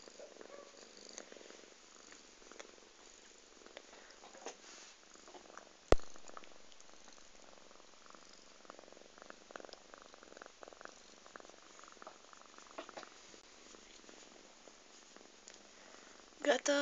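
Several cats purr on a bed, a soft continuous rumbling that runs throughout, with one sharp knock partway through and a brief louder noise at the end.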